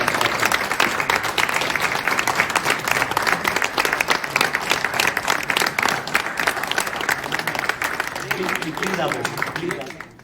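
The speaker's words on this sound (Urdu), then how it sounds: "اور ہم کم از کم 2-3 منٹ تالیاں قوی صاحب کے لیے" Sustained applause from a large crowd at a memorial gathering, dense and steady for about ten seconds before trailing off, with faint voices rising beneath near the end.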